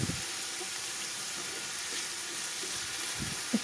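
Chopped potatoes sizzle in hot oil in a pan for potato and egg curry, a steady close-up frying hiss broken by a few soft scraping stirs at the start and end.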